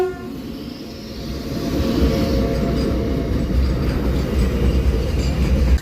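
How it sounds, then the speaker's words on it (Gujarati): Goods train rolling past at a rail crossing near Dhasa, a heavy low rumble that swells after the first couple of seconds and then holds steady and close, with faint tonal horn traces. "માલગાડી આવી માલ."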